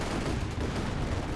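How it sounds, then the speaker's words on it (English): Panzerwerfer rocket barrage in Company of Heroes 2, a dense, continuous rumble of overlapping explosions and fire that holds steady for the whole moment with no gaps. "Here, Panzerwerfer barrage."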